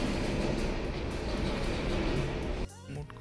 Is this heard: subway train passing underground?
yes